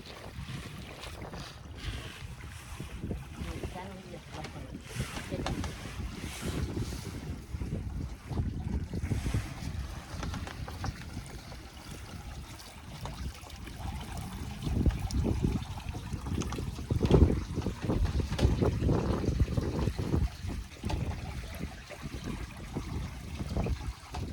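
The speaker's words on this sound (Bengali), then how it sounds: "এইভাবে ট্রেনে ট্রেনে পুরো জালটাকে তুলে নেওয়া হবে" A long fishing net is pulled steadily aboard a small boat at sea, with continuous washing water, wind buffeting and wet rustling that swells toward the end, no voices.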